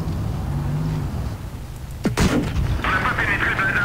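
A tank cannon fires in the mobile game World of Tanks Blitz, one loud, sharp blast with a booming tail over a constant engine rumble, up close, followed by metallic clanks and a voice.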